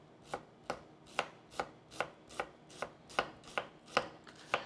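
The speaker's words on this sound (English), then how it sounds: "we're going to turn our onion, and then we're going to make our slices really thin" A knife cuts thin slices through an onion on a cutting board, giving about a dozen crisp, evenly spaced taps in a steady rhythm, close and fairly quiet, with no talking.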